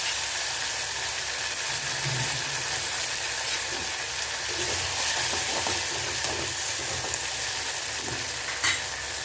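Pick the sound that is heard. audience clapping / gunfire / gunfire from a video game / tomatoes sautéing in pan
tomatoes sautéing in pan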